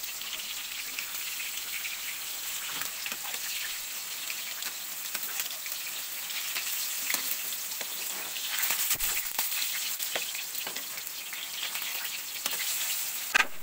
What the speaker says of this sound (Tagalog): Ay atin titingnan itong ating ipinipritong tukwa at baka ito'y nasusunog na